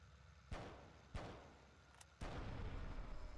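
Explosions and heavy shots in GTA Vice City Hardlined: three booming blasts with decaying tails, a small pop between them, and a sustained roar after the last one, with no talk.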